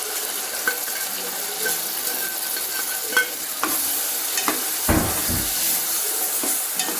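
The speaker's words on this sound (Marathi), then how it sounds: "वाटणाला तेल सुटेपर्यंत आपण दळून घेऊ." Ground masala paste frying in oil with cooked tomato for a black peas usal, a continuous close sizzle broken by repeated spoon scrapes and clinks against the pan.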